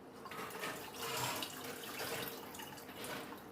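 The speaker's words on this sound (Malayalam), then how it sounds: "അതിന് ഞാൻ വെള്ളം ഞാൻ എത്ര ചേർക്കുന്നു എന്ന് കാണിച്ചു തരാം" Water runs steadily from a tap into a 3-litre pressure cooker while rasam is being made, a continuous close splashing fill with no talk.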